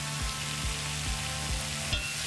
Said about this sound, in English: I'm just going to give it a quick little stir.